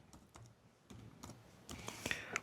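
Typing on a computer keyboard while entering a web address in a browser, quiet close clicks in loose irregular bursts that grow busier toward the end, with no talking.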